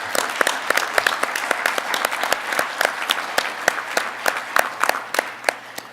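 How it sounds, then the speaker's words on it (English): An audience claps throughout for a group of staff members just named at a human resources department meeting, a steady, moderately loud round of applause with a few sharper individual claps standing out. "Let's give them a round of applause."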